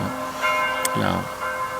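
A church bell rings, carrying a steady tone and a brief clang, while someone speaks over it.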